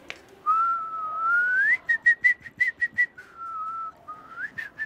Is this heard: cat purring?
no